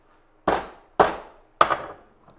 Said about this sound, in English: Take a nice little hammer.